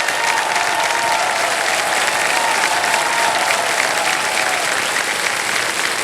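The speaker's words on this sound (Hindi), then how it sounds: "और चेक आ रहा है, ताली बजती रहे इनके लिए" A studio audience on the quiz show KBC keeps applauding as a contestant receives a cheque, a thick, unbroken wash of clapping held at a steady loud level.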